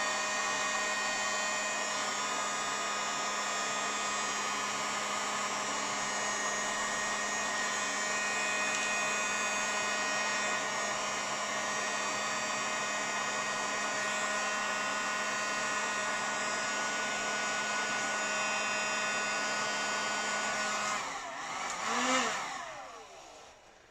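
A heat gun shrinks Monocoat covering onto a model aircraft rudder, producing a steady, loud, whining blower drone that holds for about twenty seconds and then dips and fades out.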